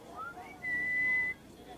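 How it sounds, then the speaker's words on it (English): A man whistles beside a birdcage, a short rising note gliding up into a clear, sustained high tone that holds steady for under a second before stopping, heard alone over quiet room tone. "The man stood next to the cage and whistled."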